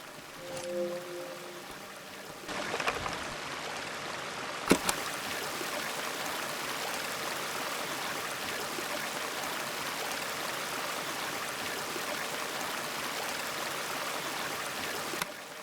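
Fresh stream water flows steadily in the video game Season: A Letter to the Future, a continuous close babbling rush with a brief thump and faint tones early on.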